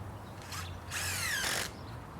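A power drill drives screws into the wall framing of a shed, two short whirring bursts with a rising then falling pitch, fairly close and heard alone.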